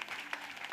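A congregation at a prayer and intercession gathering claps, a brief, faint patter of applause heard at a distance.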